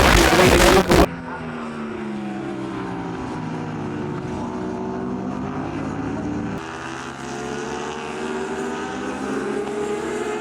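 Racing motorcycles, including Thunderbike Sport, Supertwins and Formula 400 machines, roar past at Brands Hatch circuit near Paddock Hill Bend, with a loud burst at the start followed by sustained engine drone and pitch-shifting passes continuing throughout.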